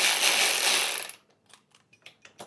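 A ratchet slackens a bolt on a bike bracket with a dense burst of rapid clicking, then a few sparse, quieter clicks and taps.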